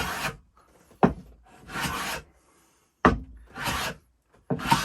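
Basic hand tools shave a cupped, warped wooden board in four or five separate rasping strokes with short pauses between them, close and distinct with no talk.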